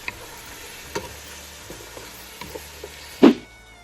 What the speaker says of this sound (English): we're adding our 1 large onion or large onion equivalent chopped and letting that cook